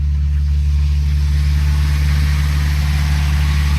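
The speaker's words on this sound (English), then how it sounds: "Let's go see if the starter button will work." Classic Ford Mustang engine running steadily after a starter-button start, a loud, continuous low rumble throughout with no voices present.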